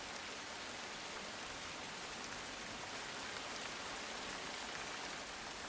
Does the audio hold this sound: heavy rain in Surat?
yes